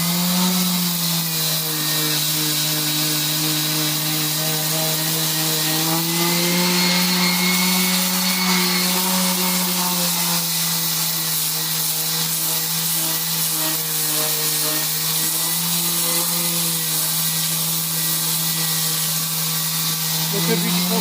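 A power sander working over a cut dimension stone block during renovation gives a steady, continuous droning whine that holds level throughout, loud and close, with no talk over it.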